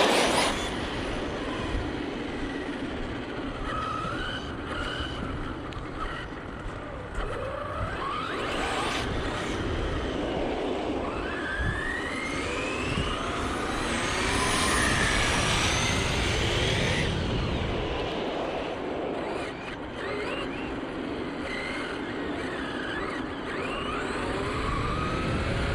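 Arrma Talion RC car tearing around a parking lot at high speed, its whining motor and tire roar rising and falling continuously for the whole stretch, passes near and far, with no talking.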